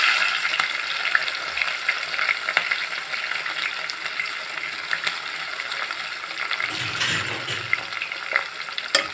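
Sliced onions and green chillies frying in hot oil for an aloo curry give a steady close sizzle, with a brief clatter of stirring and a fuller burst of crackle near the end. No voices.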